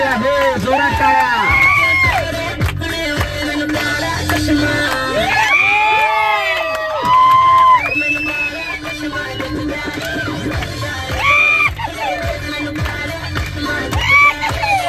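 A group crammed into a bus claps and cheers loudly, a steady, dense roar of shouting and whoops with children's voices, staying at high level throughout.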